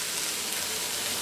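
Leeks sautéing in an Instant Pot, a steady close sizzle of frying with a soft, even hiss throughout and no talking.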